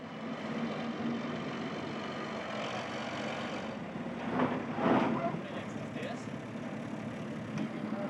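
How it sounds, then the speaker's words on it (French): A tractor engine idles at a steady low drone during a house move, with a slight swell in the middle, under people speaking French. "on attache le tracteur puis on tire le tracteur sur la maison"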